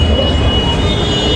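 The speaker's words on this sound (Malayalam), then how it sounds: "ഡൽഹി റെയിൽവേ സ്റ്റേഷനിലാണ്" Ambience at a Delhi railway station: a loud, steady low rumble of rolling train carriages with a faint high squeal of wheels on rails, continuous and close, with no talk.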